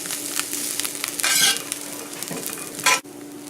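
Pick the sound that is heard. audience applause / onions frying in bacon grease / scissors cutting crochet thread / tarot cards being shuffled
onions frying in bacon grease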